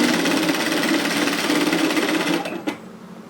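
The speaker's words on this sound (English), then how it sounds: "sew across at 1 centimetre 3/8 of an inch" A sewing machine runs in one steady, rapid burst while stitching a straight seam across a sweater pocket at 1 cm, its needle chatter close and loud before stopping with a brief clack.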